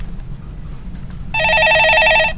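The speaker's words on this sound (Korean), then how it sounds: "전화 받아보겠습니다." A telephone rings during a Korean live stock-market call-in broadcast, a bright electronic trilling burst starting partway through and running about a second over a low background hum.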